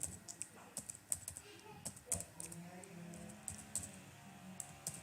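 Fingers tap out a private IP address on a computer keyboard, a quiet run of irregular, close key clicks with short pauses and no talking.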